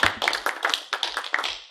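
Scattered clapping from a small lecture audience applauding a mathematics speaker in a hall, a handful of distinct, uneven claps spread across a short stretch, fairly close and not building into full applause.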